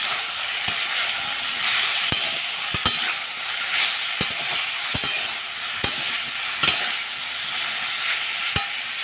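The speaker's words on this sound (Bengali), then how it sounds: "চালটাগুলোকে বা নাড়াচাড়া করতে হবে ভালো করে" Chalta (elephant apple) pieces being stirred in a pan over steady frying sizzle and hiss, with sharp clicks of a utensil against the pan at irregular intervals.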